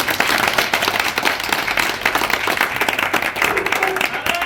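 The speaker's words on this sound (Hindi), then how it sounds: "तालियों से जोरदार स्वागत" Applause from a community meeting audience gathered to air local concerns in Babarpur, Delhi, steady dense clapping throughout with a few voices mixed in.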